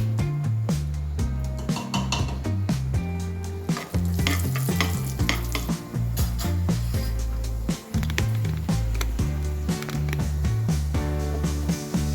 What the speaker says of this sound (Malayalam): നെയ്യിൽ കുറച്ച് അണ്ടിപ്പരിപ്പ് വറുത്തിടാം